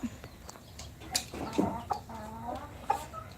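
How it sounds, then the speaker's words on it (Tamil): Chickens cluck in short, scattered bursts nearby, with a few louder squawks rising over a soft outdoor background. "நம்ம வீடியோ எடுக்கும்போது நமக்கு கோழி சத்தம் கேட்டுகிட்டே இருக்கும்"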